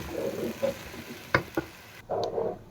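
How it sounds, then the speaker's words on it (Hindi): Chopped medium onion sizzling in hot oil in a pan while being stirred, a steady soft fry with a few sharp clicks of a spoon against the pan partway through, heard alone at close range. "प्याज को अच्छे से फ्राई कर लेंगे हम"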